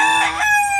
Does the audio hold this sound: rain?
no